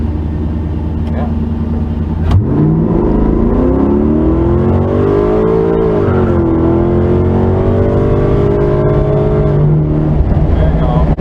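A 1970 Chevrolet Camaro accelerates hard from inside the cabin, its engine swelling loud and rising through the revs after a sudden start, then easing off near the end.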